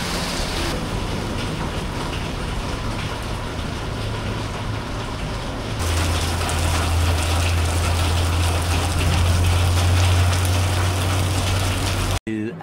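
Steady rain falls during a monsoon road trip from Ratnagiri to Badlapur, a dense continuous hiss that swells louder midway, with a low rumble underneath and no talk.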